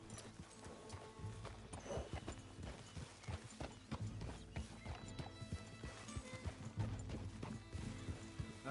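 Horse hooves clip-clop steadily in the video game Red Dead Redemption 2, a faint, even stream of hoofbeats with soft tack rattle and an occasional whinny, quiet throughout.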